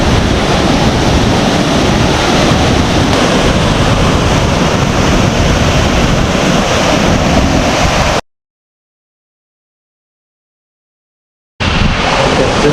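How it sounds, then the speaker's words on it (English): A waterfall near Mount Rainier in Washington roars loudly, with wind whipping spray around the microphone in a dense, constant rush that cuts out abruptly for several seconds before returning. "A lot of water blowing, and because of the wind"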